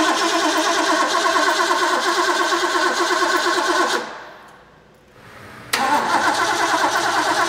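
A Ford V-8 351C engine built for a DeTomaso Pantera cranks steadily on the starter with a rhythmic chug, briefly stops, then cranks again, loud and close with no voices.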